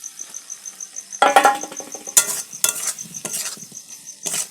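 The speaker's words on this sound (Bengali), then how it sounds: "এবার দিয়ে দিচ্ছি ভেজে রাখা আলু।" Fried potatoes go into a sizzling pan of aloo dum spice masala and get stirred, with a steady hiss and crackle cut by several loud scraping, clattering stirs.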